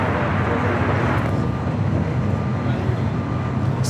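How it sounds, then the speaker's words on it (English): A Copa Boeing 737 Max 9 rolls down the runway at LAX with a broad, steady jet roar that holds for several seconds, heard from a distance. "Copa 737 Max 9 now rolling down 24 right"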